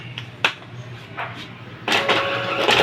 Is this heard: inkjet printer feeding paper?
yes